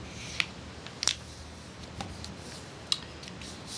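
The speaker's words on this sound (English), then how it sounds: "You're just going to fold that like so." Sheet paper creased and folded by hand while making a paper airplane, a few crisp separate crackles and rustles close by in a quiet room.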